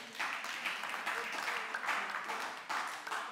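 A church congregation claps and cheers in sustained applause, broad and lively with rising swells, filling the room throughout.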